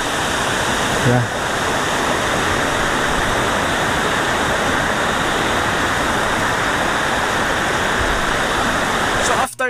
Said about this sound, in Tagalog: naabot ra nato ang Dumaging Waterfalls diri sa Barangay Corrales